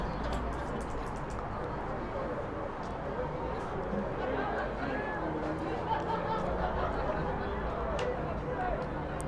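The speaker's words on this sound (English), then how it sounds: "The orange high crowd has been loud, to say the least." A high school football crowd at an Orange High varsity game against Long Beach Millikan makes a constant, diffuse babble of many voices, with one voice talking over it.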